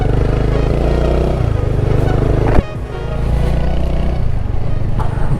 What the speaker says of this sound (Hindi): पहला गेयर लगाने का और इजी इजी थ्रोटल देने का